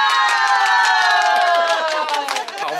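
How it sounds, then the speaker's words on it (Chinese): A crowd of travellers loudly cheering and whooping to welcome the village head of Yongxing village in Jinshan District, New Taipei; overlapping shouting voices fill the whole stretch, with little distinct clapping. "我们热烈的掌声欢迎我们永兴里的里长"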